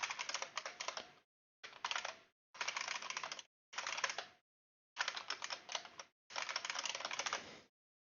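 Computer keyboard typing in six quick bursts of rapid clicking keystrokes separated by short pauses, close and clear with no talk.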